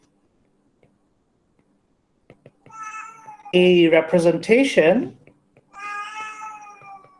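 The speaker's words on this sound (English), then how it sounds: "Sorry for the cat." Domestic cat meowing indoors: a few loud, drawn-out, wavering meows close to the microphone, following a short bit of quiet talk from a man.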